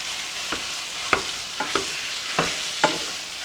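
A pound of ground meat frying in a pan for tater tot casserole, a spatula chopping and scraping through it in irregular strokes over a steady sizzle, close by and without talk.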